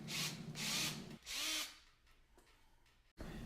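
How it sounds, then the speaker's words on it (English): A power drill whirs in three bursts, each spinning up and winding down, followed by quieter clicks and handling noise. "Now, as perpendicular as possible, we just start drilling our hole."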